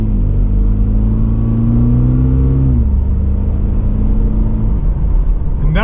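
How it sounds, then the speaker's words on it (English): A 2024 Toyota GR86 sports car engine drones loudly close by, its pitch rising then dropping as gears shift, with steady road rumble underneath. "Now we'll take off, let the engine shift."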